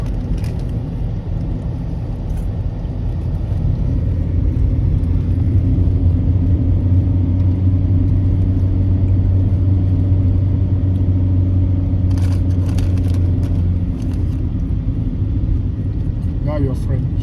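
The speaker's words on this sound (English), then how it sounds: "The car doesn't really go up hills very fast." Inside a small car climbing slowly up a high mountain road in Lesotho, a steady low engine rumble and road noise drone continuously, with people talking over it.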